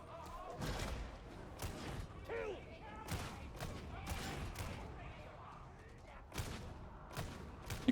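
Bolter fire in Warhammer 40,000: Darktide, a run of heavy, punchy shots in irregular bursts amid busy game combat noise, with speech mixed in.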